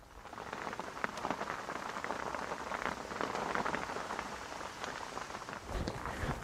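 Steady rain falling at a carp fishing lake, a dense, even patter of drops on surfaces that holds close and constant throughout with no voices.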